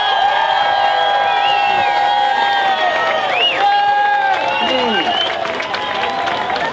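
Dense rally crowd at a Seattle Tea Party gathering, steady clapping and cheering with scattered whoops and whistles, loud and continuous throughout.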